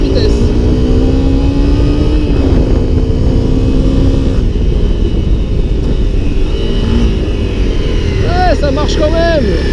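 A Honda CRF 250 L motorcycle engine runs at full throttle on a road ride, a loud, close, steady droning hum that climbs in pitch near the end, with a rider's voice heard over it.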